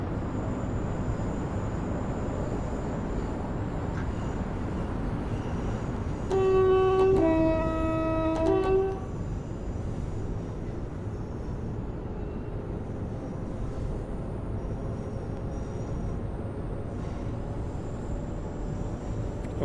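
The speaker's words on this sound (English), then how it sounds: "We've got a Pendolino passing over the top of us." A Pendolino train passes overhead in a train simulator game, its horn sounding two stacked tonal blasts over about two seconds, then the blended rumble of rail travel continuing steadily underneath.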